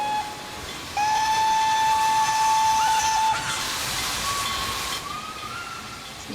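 A Roblox train whistle sounds in a video game, a long steady tonal blast that starts after a second of quiet, then fades with a hissing tail and a short final toot.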